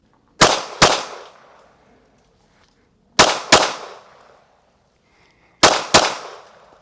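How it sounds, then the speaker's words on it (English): A Derya DY9 Island 9mm pistol firing controlled pairs at 5 yards: three loud, sharp double shots spaced a few seconds apart, each pair quick with a short ringing decay, no talk. "controlled pairs from a distance of 5 yards"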